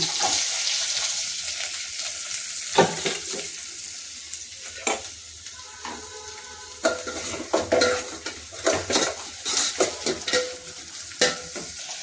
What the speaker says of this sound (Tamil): கருவேப்பிலை பச்சை மிளகாய் போடுங்க வெங்காயம்